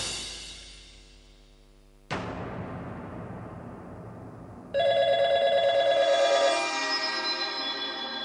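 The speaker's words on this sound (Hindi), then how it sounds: "फोन बज रहा है" A telephone rings in a household scene from a Hindi TV serial, a tonal ringing that sounds out clearly after a dramatic musical sting, steady and moderately loud with no talk.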